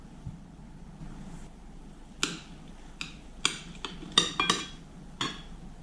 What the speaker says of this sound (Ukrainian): Нарізаю сир також невеличким кубиком.